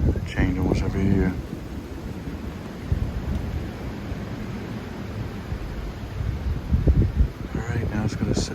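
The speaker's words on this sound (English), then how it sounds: "Well, that wind is just a howl." Strong wind roars steadily into the microphone as a broad rushing noise, with a voice speaking briefly at the start and near the end.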